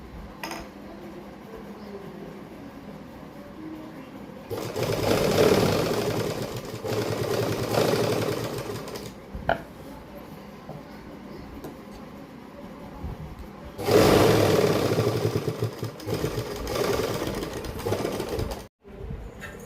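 A sewing machine stitching pleats on a suit runs in two bursts of steady whirring and clatter, close and fairly loud. Quieter stretches come between and before the bursts.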